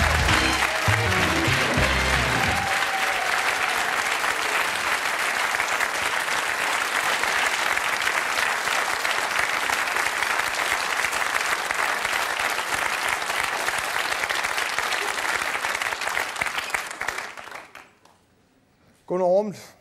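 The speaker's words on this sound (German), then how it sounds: "wir machen hier im Studio alle zusammen einen großen Applaus" Studio audience applause on a TV comedy show, long loud steady clapping after a short spoken introduction, dying away near the end before a voice returns.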